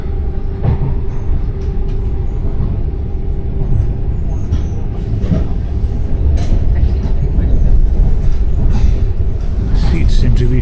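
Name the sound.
Italian train riding from Pisa to Florence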